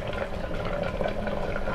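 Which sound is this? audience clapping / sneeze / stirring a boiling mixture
stirring a boiling mixture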